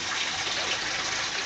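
Water rushes steadily through the black return hose of a glass-processing water purifying system feeding a CNC machine, a continuous close broadband gush with no breaks and no talk.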